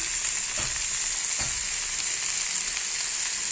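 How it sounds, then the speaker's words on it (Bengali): Bata fish with drumstick pieces and turmeric frying in a pan, giving a steady loud sizzle throughout with a couple of brief stirring scrapes and no voices. "ভালো করে এবার এগুলো ভেজে নেব লাল করে"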